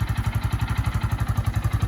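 A stock GPX Demon GR 150cc motorcycle engine idles close up, a steady low rhythmic putter with even pulses and nothing else.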